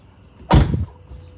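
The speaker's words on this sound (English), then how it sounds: "Do a little door test. I always like to check the doors here." A 2019 Tesla Model 3 car door closing with a single solid, close thud followed by a brief rattle, alone against a quiet background.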